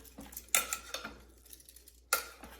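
Chicken wings in Frank's sauce are stirred in a crock pot, giving a handful of soft, uneven scrapes and clinks of a utensil against the pot, close and quiet.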